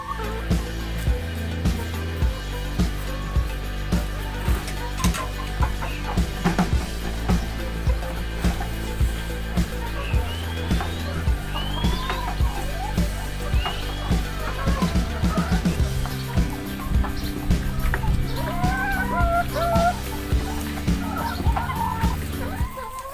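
Several hens cluck and murmur close by while eating black soldier fly larvae, over a steady low rumble, with soft pecking and scratching sounds throughout.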